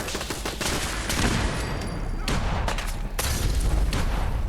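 Rapid gunfire rattles through a Fallout 4: Far Harbor firefight, with volleys of close shots and heavy thuds packed tightly together, loud and continuous, without anyone talking.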